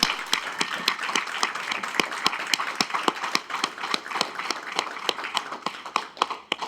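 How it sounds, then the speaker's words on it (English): An audience at a university entrepreneurship event claps for team members standing up, with distinct close hand claps over a steady round of applause that keeps going at an even level. "I want to give a round of applause"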